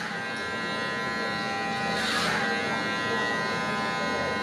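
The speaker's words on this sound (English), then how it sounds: "Close the lever all the way, and clip over comb." Electric hair clippers buzz steadily as they cut straight hair using the clipper-over-comb technique at a barbershop, a close, continuous hum with slight swells as the blade passes through hair.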